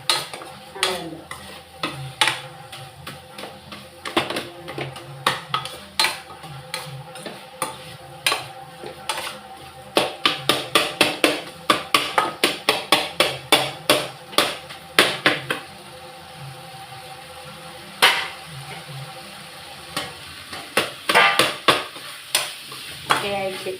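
Food sizzles in a pan on a stove while a metal spoon scrapes and taps repeatedly, mashing and stirring in quick bursts of clatter over a steady frying hiss.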